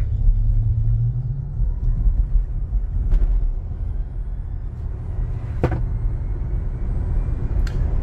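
Tesla Model Y RWD accelerating hard from a dead stop, heard from inside as a loud, steady low rumble of road and motor noise with a few faint clicks and no talking.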